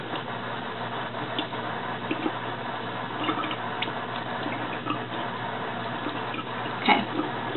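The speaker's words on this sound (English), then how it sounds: "I'm going to just take some warm water and put it all over my face." Warm water runs and splashes softly as hands scoop it over a face at a sink, a continuous gentle trickle with small irregular splashes and no talking.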